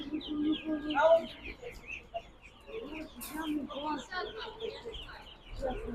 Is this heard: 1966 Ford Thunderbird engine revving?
no